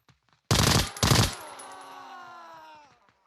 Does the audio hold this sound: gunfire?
yes